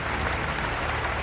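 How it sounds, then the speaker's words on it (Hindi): Standing ovation in the Canadian parliament chamber, a dense wash of many people clapping together, loud and continuous for a moment with no voices on top. "एक बार नहीं 2 बार स्टैंडिंग ओवेशन।"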